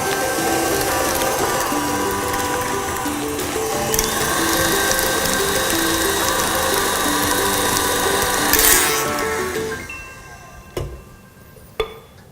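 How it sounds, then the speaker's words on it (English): An electric mixer churns cookie dough with eggs, giving a loud, continuous whirring gear rattle for most of the stretch before it stops, leaving a few sharp knocks in quieter air. "while the mixer's running, add in those 2 eggs."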